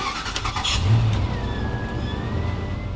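A car engine runs close by and revs as the car pulls away, a steady mid-pitched drone that swells briefly near the start and then settles, with no voices.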